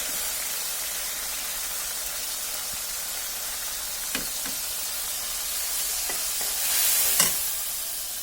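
Turmeric, salt, chili powder, coriander powder and ginger paste fry in a pan for a ghugni, giving a steady soft sizzle with a few faint stirring scrapes near the end.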